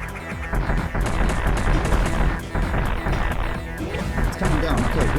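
Rockets fired in the video game Another Metroid 2 Remake come as dense, rapid bursts of explosive blasts and crashes that barely let up, loud and close throughout.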